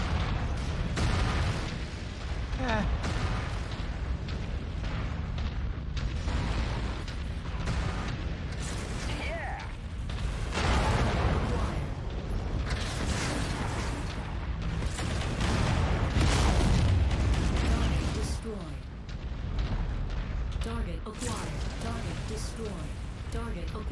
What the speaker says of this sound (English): It's that Gauss rifle, just cleaning up.